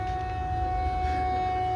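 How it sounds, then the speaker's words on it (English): Swedish emergency alert siren recorded outside a bedroom window, a steady sustained tone holding over a low background rumble, fairly faint and distant. "Somebody recorded this outside of their bedroom window. It's a siren alarm."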